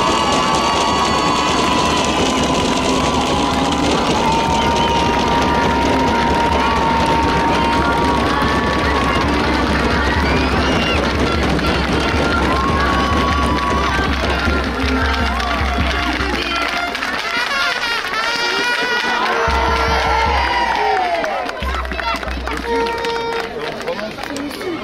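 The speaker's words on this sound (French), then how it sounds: "Je vais vous demander un tonnerre d'applaudissements pour nos championnes." At a French Cup 2022 awards ceremony, a crowd cheers and claps for the champions, a sustained noisy din with a deep rumble underneath, while an announcer keeps talking over it.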